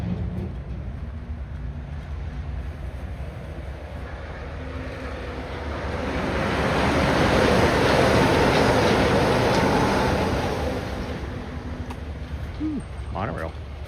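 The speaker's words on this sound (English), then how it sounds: "Monorail." Disney Magic Kingdom monorail passing outdoors, a broad rumbling whoosh that swells to a peak midway and fades again, heard over steady crowd murmur and background voices.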